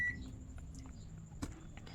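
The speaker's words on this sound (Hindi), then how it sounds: "देखिए कंटिन्यूटी शो कर रहा है, बजर आ रहा है" The continuity buzzer of a digital multimeter sounds while testing a switch: a faint, thin, high-pitched tone holds steadily throughout, with small clicks of handling.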